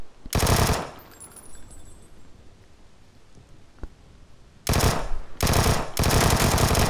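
Loud automatic gunfire bursts from the video game PUBG, one sustained volley at the start, then after a quieter pause with a single sharp shot, three more long bursts in rapid succession.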